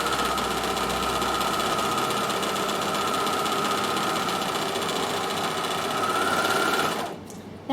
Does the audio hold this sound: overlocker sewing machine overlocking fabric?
yes